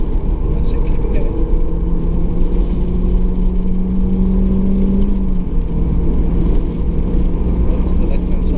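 A race car on an ARDS licence test pulls under power, its engine droning steadily and loud from inside the cockpit while an instructor talks over it.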